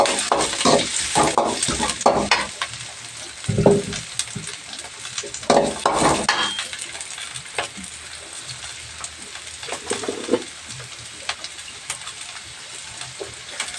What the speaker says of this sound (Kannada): ಹಸಿರು ಮೆಣಸಿನ್ಕಾಯಿ ಫ್ರೈ ಆದಮೇಲೆ ಈಗ ಕಟ್ ಮಾಡಿರೋಂಥ ಈರುಳ್ಳಿನ ಸೇರಿಸ್ತಾ ಇದ್ದೀನಿ